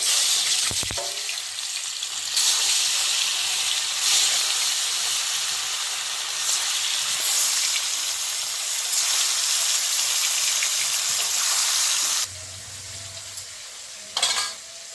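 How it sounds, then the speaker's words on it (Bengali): Snakehead fish fries in hot oil with a loud, continuous sizzle and spatter, which quiets somewhat near the end, with a brief clatter. "আমি তেলটা দিয়ে দিচ্ছি, মাছ ভেজে নেব।"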